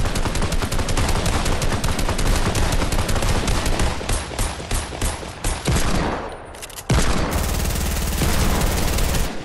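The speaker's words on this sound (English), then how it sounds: "Start shooting his thing down. Yeah, shoot him." Rapid automatic gunfire rattles in Fortnite, dense loud bursts of shots repeating almost continuously with a brief pause before another burst, no talking.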